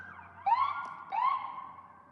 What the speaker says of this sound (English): Some ambulances going by, some good distractions.